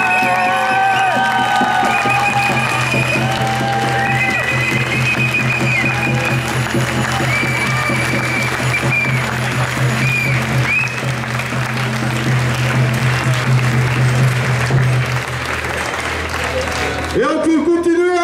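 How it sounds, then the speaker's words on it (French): Crowd at a climate march in Bordeaux claps and cheers for a young man, with whoops and shouting over steady applause and a low rumble of street noise, then the sound cuts off abruptly near the end. "Merci aujourd'hui de nouveau applaudir ce jeune homme qui prend ces risques-là."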